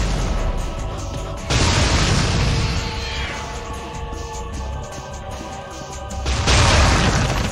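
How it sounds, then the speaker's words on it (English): Grenade launcher blasts in the Devil May Cry video game, two loud broadband booms near the start and end with a rumbling, noisy battle bed between them, no voices. "Can I introduce you to Grenade Launcher?"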